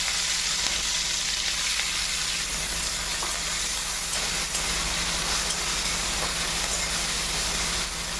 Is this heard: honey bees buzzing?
no